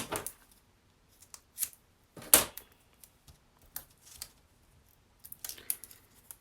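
Scissors snip through 3D foam tape in short, separate cuts, close and crisp against near silence, about a dozen clicks and snips spread unevenly.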